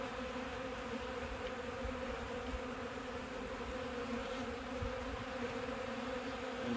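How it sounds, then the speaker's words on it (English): Honey bees buzz in a dense, continuous drone as the top box of a hive is smoked and opened during an inspection, heard close and steady throughout. "Get some smoke in this top box. Get those bees down inside."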